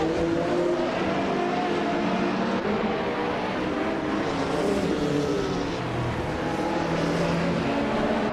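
A pack of racing cars, led by a 1998 Porsche 911 GT1 98, roars off the start at Montclos in a racing video game, with a steady, loud engine drone that holds throughout.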